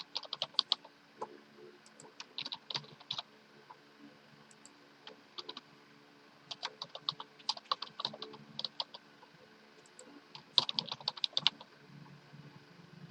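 Computer keyboard typing while entering records into a database table, quiet bursts of rapid clicking keystrokes with short pauses between them, close by, with no voices.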